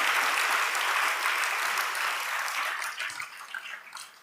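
A church congregation bursts into full, dense applause at a sermon, the clapping strong at first and thinning gradually toward the end.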